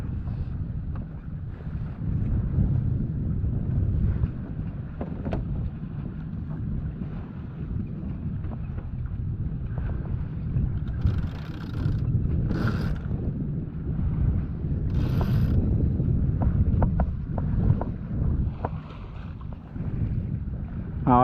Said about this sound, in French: Et là les petites risées arrivent.